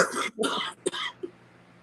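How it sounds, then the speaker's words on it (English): A few harsh coughs in quick succession, close to the microphone, followed by a brief throat-clearing rasp. "Excuse me for coughing so much."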